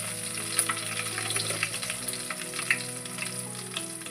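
Mustard seeds, cumin, garlic and curry leaves sizzle and crackle steadily in hot oil, with a continuous close frying hiss and scattered small pops throughout.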